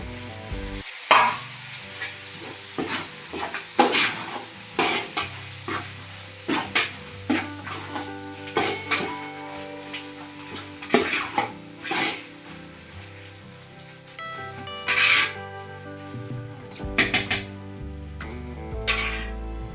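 Ginger, garlic and onion sautéing with tomato in a pan, a continuous sizzle broken by repeated scraping and clanking of a spoon stirring against the pan, close and fairly loud with no talking.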